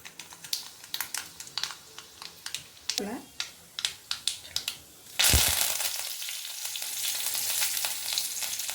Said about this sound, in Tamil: கடாய் வச்சு எண்ணெய் ஊற்றி காஞ்சிருச்சுங்க. இனி கடுகு போடலாம்.